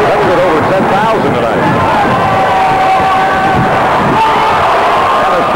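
A large arena crowd at a Bradley Braves vs Drake Bulldogs college basketball game roars and cheers steadily throughout, with shouts and whoops in a dense, loud wash of voices.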